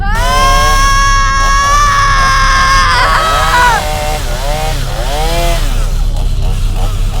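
A chainsaw motor runs loud and close, its high whine sliding downward and wavering as the blade bites, with shrill cries mixed into the roar.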